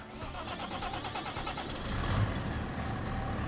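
Mid-size tractor engine in a farming video game, a steady mid-pitched running drone that swells in loudness partway through, with no talk.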